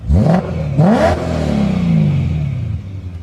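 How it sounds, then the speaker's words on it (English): A BMW E92 M3 engine revs hard twice in quick succession, then holds a loud, sustained, smooth engine note that slowly settles, heard close up with no talking. "is there anything better than a E92 Rev?"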